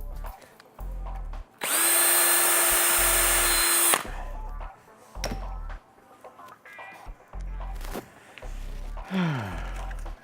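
A power drill backs screws out of a prop laser gun: one long steady whine of about two seconds, loud and close, with shorter bursts and clicks of handling before and after.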